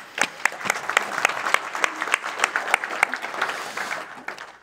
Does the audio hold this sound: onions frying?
no